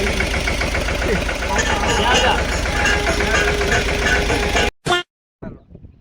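A tractor engine runs close by in a steady, heavy rumble with a rhythmic chug, then cuts off abruptly, leaving a couple of short bursts of noise.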